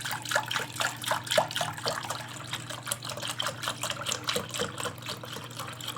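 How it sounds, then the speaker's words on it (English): Evapo-Rust rust remover pours into an old cooking pot with a steady liquid trickle and splashing, close and moderately loud, the flow wavering in gentle pulses throughout. "So I'm gonna get some Evapo Rust going in here."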